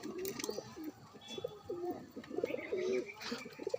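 Several pigeons coo in soft, repeated low rolls while feeding, close by and overlapping, with a faint background murmur and no talking.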